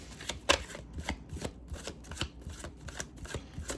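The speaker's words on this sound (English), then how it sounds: "I'm giving a pretty loose shuffle" A deck of cards given a loose, rapid shuffle, with a steady run of soft riffling flicks and a few sharper snaps, close and clear with no talking.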